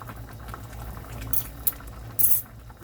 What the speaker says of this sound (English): just let that come to a boil to see how thick it is